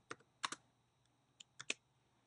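Keystrokes on a computer keyboard while signing up for a Twitter account, a few sparse clusters of crisp clicks with pauses between them, fairly quiet and close, no voices.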